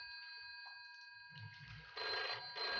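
A telephone rings in the video game What Remains of Edith Finch, bursts of bright ringing starting about halfway through, heard faintly and alone over quiet low background sounds.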